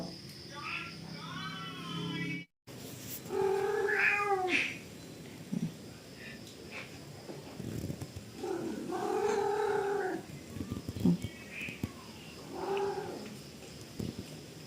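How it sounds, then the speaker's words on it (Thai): A stray cat that wandered onto a family home meows repeatedly: about four drawn-out, close, fairly loud meows with short pauses between them, over a low background hum and scattered small noises. "แมวจรจากที่ไหนก็ไม่รู้ มาบ้าน คุณ แม่ อีกแล้ว"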